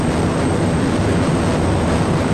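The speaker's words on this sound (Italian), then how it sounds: "La potenza degli aerei." Airplane engine in flight in the video game Arma 2 DayZ, a loud, dense, steady roar that holds constant throughout with no pauses and no talking.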